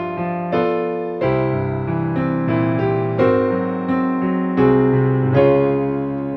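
Piano melody played in a fuller, pianistic style, chords struck in a steady phrase that shifts into a new key, sustained and resonant with no voices.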